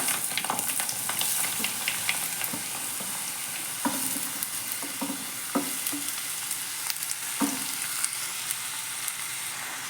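Small cucumber pieces fry in oil with mustard seeds and dried chillies, a continuous close sizzle broken by repeated clicks and scrapes of a spoon stirring the pan.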